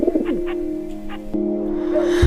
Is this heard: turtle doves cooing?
yes